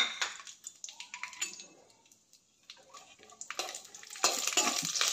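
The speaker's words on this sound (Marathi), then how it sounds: "सगळे ड्रायफ्रूट्स खमंग भाजून घ्यायचं आहे." Dry fruits roasting in a spoonful of ghee in a pan for carrot kheer, scraped and stirred in bursts of clatter and sizzle, with a quiet pause midway before louder stirring resumes.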